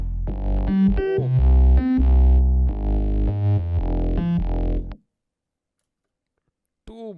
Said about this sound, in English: Too much distortion.